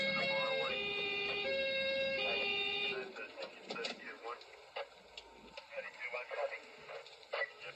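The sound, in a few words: police car siren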